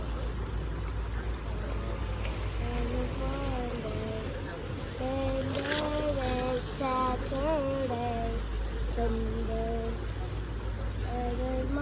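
A tour boat motors across the water near a marina, its engine a steady low drone throughout, while people talk over it close by.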